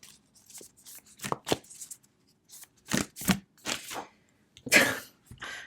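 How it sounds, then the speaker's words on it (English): Tarot cards being shuffled in separate quick bursts of riffling and slapping, close and fairly quiet, with pauses of near silence between the bursts. "I'm going to shuffle again and just see what wants to come through."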